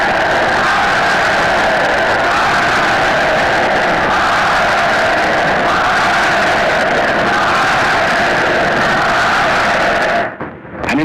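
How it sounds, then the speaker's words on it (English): A large crowd cheers and shouts at a public event, a dense, loud, continuous roar of voices that holds steady for about ten seconds before cutting off abruptly. "people were cheering another kind of event."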